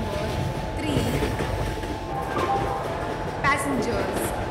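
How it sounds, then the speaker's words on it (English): The Deccan Odyssey Special Express, a luxury tourist train in India, rolling into a station platform with a steady low rumble, rhythmic wheel clatter and a brief squeal, while station announcements and voices sound over it. "Deccan Odyssey Special Express is arriving at platform number 3."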